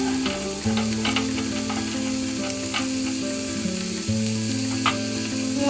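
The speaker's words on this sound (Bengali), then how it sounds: "সব চিংড়ি মাছগুলো এবার হালকা করে ভেজে নেব।" Prawns frying lightly in hot oil for a Bengali doi chingri prawn curry give a steady, close sizzle with a low oil hum and a few faint utensil ticks throughout.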